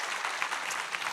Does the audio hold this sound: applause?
yes